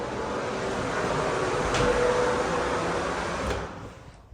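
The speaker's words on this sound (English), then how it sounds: "Apologies for the loud fan there" Loud fan running in a holiday home bedroom, a steady broadband whoosh with a faint tonal hum, near and continuous, fading slightly at the end.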